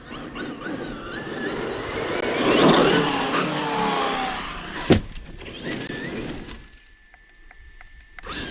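A Traxxas XRT RC car drives with a loud, whining motor that rises and falls as it speeds around, followed by a sharp knock and then quieter stretches with some thin, high tones.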